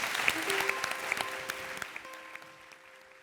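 Studio audience applause on a television talk show as a singer is welcomed, a full burst of clapping that gradually fades, with a few tonal notes and a faint voice over it.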